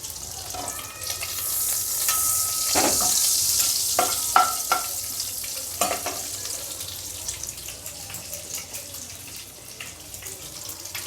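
Chopped garlic frying in butter in a pan, a close sizzle that swells and then eases off, broken by scraping and clicking from stirring, with no talking.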